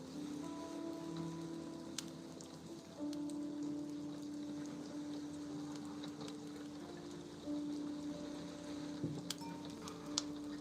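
Steady rain falls outside, heard indoors as a soft continuous patter with occasional sharper drops, fairly faint and unbroken for the whole stretch.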